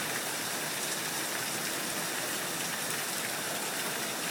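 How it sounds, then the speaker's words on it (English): Heavy rain pours steadily during a long downpour, a dense, loud, unbroken hiss of water with no pauses and no voices. "A solid pouring of rain."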